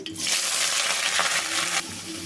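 Medium onions with curry leaves and green chillies frying in a pan for a ridge gourd tomato curry, a loud steady sizzle close by that cuts off abruptly near the end, no voices.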